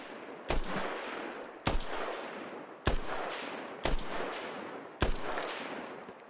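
Rifle shots in the Squad military shooter during aim training ring out one at a time at a steady pace of roughly one per second, five in all, each sharp crack trailing off into a short echo.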